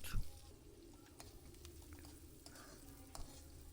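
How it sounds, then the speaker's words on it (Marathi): Chopped onion sautéing in hot oil for a spicy Maharashtrian Ravan zunka: a soft, steady sizzle close by, with a couple of faint scraping stirs and no talk. "आता हा कांदा आपण या तेलामध्ये परतणार आहोत"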